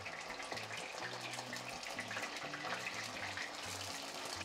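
Cut pieces frying in hot oil, a dense, steady hiss of bubbling that runs continuously and fairly loud, with a low irregular tonal pattern beneath it.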